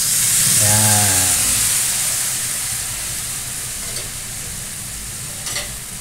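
Roast pork paksiw with soy sauce and vinegar cooks in a pot, giving a steady, fairly loud bubbling hiss. A short tonal whine comes early, and a couple of faint clicks follow.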